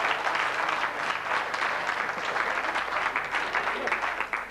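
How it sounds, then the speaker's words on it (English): A studio audience on a 1993 Westcountry TV regional quiz show applauds, a dense, sustained burst of clapping that stays loud and even throughout, with faint voices mixed underneath. "A round of applause!"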